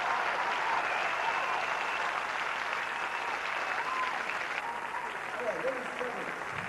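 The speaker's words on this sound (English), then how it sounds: "bring a very warm round of applause and welcome onto the stage a marvellous act" A theatre audience at the Hackney Empire applauds warmly to welcome Lily Savage, sustained dense clapping from a large crowd throughout, with a few cheers mixed in.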